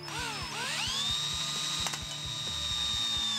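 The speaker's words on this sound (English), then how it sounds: "This is a 3/16 drill bit, which works well for these zip ties" Drill with a 3/16 bit cutting out zip ties: rapid repeated ratcheting clicks under a high whining motor tone that rises and then holds steady, close and continuous.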